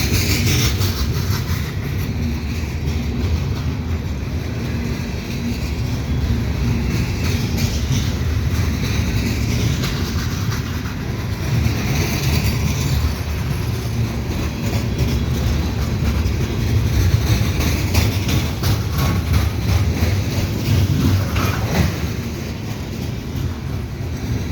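A CN freight train rolls through Dorval station in winter, a steady, loud rumble of wheels and wagons with faint clickety-clack, continuous and unbroken, with no voices.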